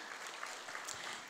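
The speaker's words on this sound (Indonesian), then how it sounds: "Satu tepukan kepada Atomy ya." A brief, faint round of clapping from an audience at a Malay-language Atomy company introduction, a short, even patter of hands heard from a distance.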